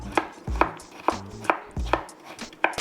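A knife halves tomatoes for a salad on a cutting board, producing about six sharp, close thuds in an uneven rhythm, each with a brief slicing rasp before the blade hits.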